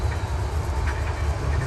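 Four-locomotive train reversing slowly after stalling on a wet-rail hill, a steady low rumble of engines with rolling rail noise continuing throughout.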